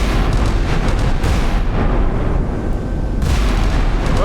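5-inch naval guns fire in the Sea Power naval warfare game as battleships and a destroyer squadron engage, producing a loud, continuous roar of overlapping booms and explosions with a brief lull before the barrage resumes.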